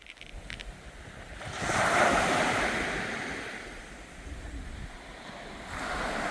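Sea waves wash onto the shore of a small island beach beside a school, a broad rushing surf that swells and fades with steady wind noise across the microphone, with no voices.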